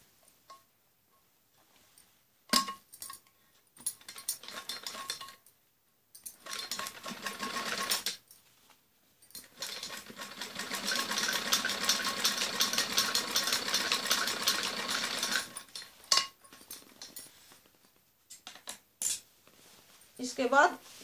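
A domestic sewing machine stitches a strip onto a padded blouse in several bursts of rapid whirring, the longest a sustained run in the middle, separated by quiet gaps with light clicks and handling noises.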